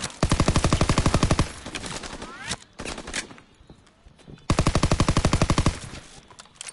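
Automatic weapons fire in Call of Duty WWII in two long rapid bursts of sharp, evenly spaced shots, loud and close, separated by a gap of scattered single shots and battle noise.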